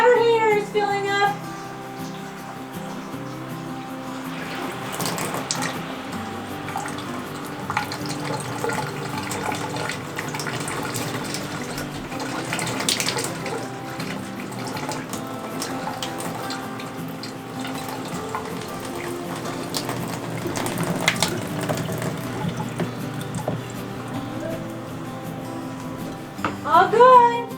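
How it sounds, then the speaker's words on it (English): Water rushes and hisses steadily as it fills a water heater tank after a burst frozen pipe repair, continuing for a long stretch with faint clanks and occasional voices in the background. "The water heater is filling up."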